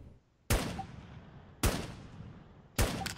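Three loud, separate gunshots fired at zombies in the video game Infestation: The New Z, each a sharp close crack with a long echoing tail, spaced about a second apart.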